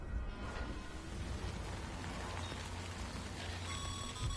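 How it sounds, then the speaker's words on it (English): Steady rain shower in a video game, a soft continuous hiss of falling drops with a faint low drone beneath, holding even and moderately quiet throughout without speech. "時雨が降ってきた。"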